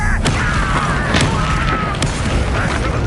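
Incendio fire spell cast in a wizarding video game, a loud continuous whooshing roar with sharp crackling bursts throughout, heard alone without talk.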